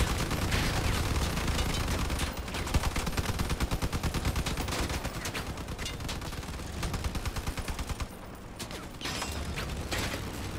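Vehicle weapons fire rapidly in the combat game Crossout: dense, loud machine-gun bursts rattle alongside mechanical clanking and grinding, almost nonstop, with a brief drop in intensity before the firing resumes.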